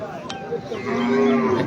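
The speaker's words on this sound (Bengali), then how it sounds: "এখানে বিভিন্ন রকমের গরু ছাগল উঠেছে," Cattle low at a Qurbani livestock market held on a school field, one drawn-out moo swelling loud and close against a busy market hum.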